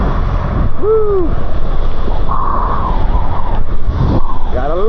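Trucks passing on a rainy road in Vietnam, a steady close wash of tyre and engine noise with a horn-like tone rising briefly and swishing passes.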